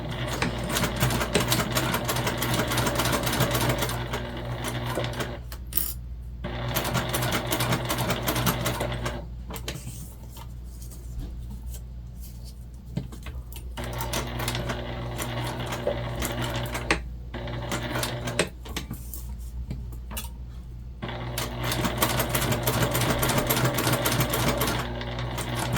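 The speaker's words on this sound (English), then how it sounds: "We're just going to top stitch down both sides," A sewing machine top stitches down the long sides of a fabric pouch in long, steady bursts of rapid whirring and clatter, separated by short pauses.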